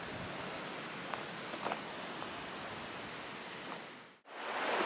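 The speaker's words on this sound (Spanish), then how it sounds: "se oye el agua todo el rato de fondo con los pájaros" Steady broadband rush of water from a river near its source in a Spanish mountain park, continuous throughout, with a few faint brief bird chirps rising above it.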